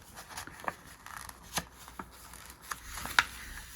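Scissors trimming the bottom edge off a page in a new paper journal, a few sparse crisp snips and paper rustles spread out at close range, with no talking.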